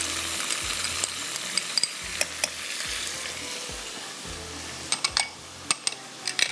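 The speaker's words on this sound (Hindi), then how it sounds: "ये बस गोश्त थोड़ा सा हो रहा है फ्राई" Meat fries in a pot with salt and ginger-garlic paste, a steady loud close sizzle with occasional clinks and scrapes of a utensil against the pot.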